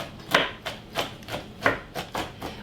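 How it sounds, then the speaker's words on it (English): A knife chops roasted peanuts on a cutting board in about seven crisp, evenly spaced strokes, close and clear, with no voices. "I'm just going to chop them up just so they're not so big."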